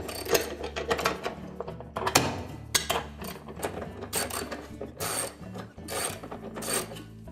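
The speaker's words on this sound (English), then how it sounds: "It's held on with 4 bolts, all 1/2-inch bolts, so just remove those." Half-inch bolts come off a GE washer's motor, shaft and tube assembly, giving irregular clicking ratchet bursts and metallic scrapes with short pauses between them, close and moderately quiet.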